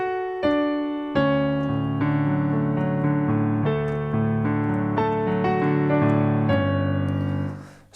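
Solo piano plays the opening of the second half of a piece, with dense sustained chords and melody notes struck in a steady flowing rhythm, loud and close, with no voices.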